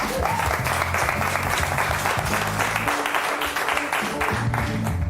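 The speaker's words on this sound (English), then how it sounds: "The applause is for you." Audience applause after a mentalism stage act, a steady wash of many hands clapping that fills the room at close range and holds for several seconds.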